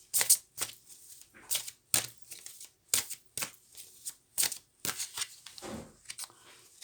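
Tarot cards shuffled and drawn by hand, a string of crisp riffling bursts roughly every half second, close and fairly quiet, with no voice over them.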